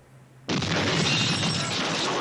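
A nuclear explosion in a film erupts suddenly as a loud, sustained roaring blast that holds steady and dense for nearly two seconds after a quiet lead-in.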